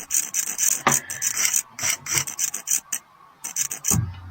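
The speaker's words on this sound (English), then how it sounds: "Now use the Explorer to remove any excess temporary cement and debris." In a dentist simulator video game, a dental explorer tool scrapes away excess temporary cement in short, rapid rasping strokes with brief pauses between bursts.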